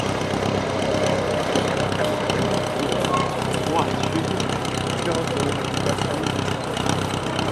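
World War One reenactment vehicles rumble past at Tankfest, a steady mid-pitched engine drone with knocking idle character under continuous crowd chatter and talk.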